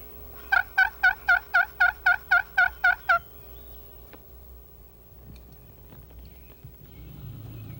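A slate turkey call used for turkey hunting, scratched to imitate a hen turkey: a run of about ten evenly spaced, high, raspy yelps, close and clear, followed by quiet outdoor ambience with faint scattered noises.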